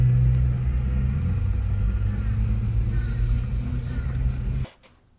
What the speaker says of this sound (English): just drive on through to the last window